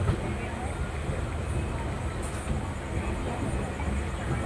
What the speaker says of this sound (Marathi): फायनली कळंबोळीवरून ट्रेन सुटली आहे.